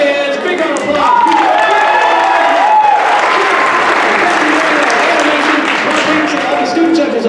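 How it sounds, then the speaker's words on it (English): A poetry recitation competition audience breaks into sustained loud applause and cheering for the judges, a dense wash of clapping with whoops and voices mixed in throughout. "Let's give it up for our judges. Big round of applause."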